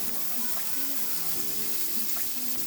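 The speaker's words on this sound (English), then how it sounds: "Fry this a bit to infuse the oil with your lovely flavors." Garlic and onion fry in oil with a steady, soft hiss and crackle that stays even and close throughout, with no voice over it.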